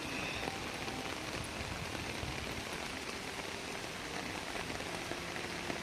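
Steady rain pours down across a surface, a dense continuous patter with scattered individual drops, no voices.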